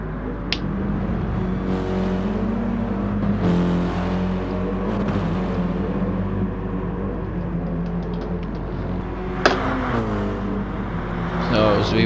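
Race cars lapping the Monza circuit in Gran Turismo, engines whining and shifting through rising and falling pitch as they pass, loud and continuous under a commentator's voice.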